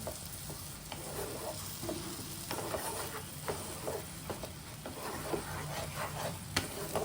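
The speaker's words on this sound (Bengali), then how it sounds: "ওটা দিয়ে দিচ্ছি এবং ভালোভাবে নেড়ে চেড়ে কষিয়ে নিচ্ছি" Strained mustard paste being stirred and fried in a pan, a soft continuous sizzle with scattered spatula scrapes and light taps recurring every second or so, fairly quiet and without speech.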